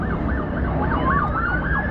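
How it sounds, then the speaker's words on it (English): A fire engine siren wails up and down in a steady repeating sweep through a downtown city, heard from high above with traffic rumble underneath and no talking. "On that fire engine down there."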